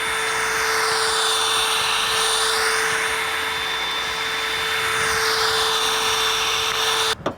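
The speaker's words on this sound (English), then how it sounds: "we have an attachment on our drill for the barrel" A power drill spins a barrel-cleaning attachment through a shotgun barrel, a loud steady whine with a shifting tone that cuts off abruptly near the end.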